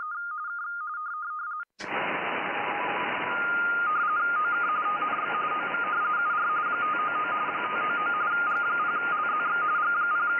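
Amateur radio data mode transmission: a steady tone, then a brief click and a loud continuous wideband digital hiss with stepping tones running throughout, near and alone.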